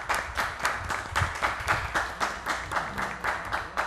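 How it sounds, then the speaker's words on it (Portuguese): A crowd at a plenary meeting claps in steady applause, rhythmic and fairly loud, sustained for a few seconds without voices. "vamos quebrar o protocolo, dar uma salva de palmas para esse guerreiro aí"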